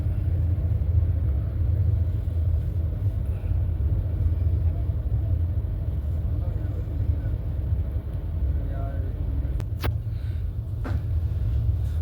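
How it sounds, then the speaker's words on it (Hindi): A train crosses Pilkhuwa station in Uttar Pradesh, heard from inside as a continuous low rumble of wheels and carriage, steady and loud, with a couple of brief sharp clanks near the end. "गाड़ी पिलखवा स्टेशन को क्रॉस करती हुई"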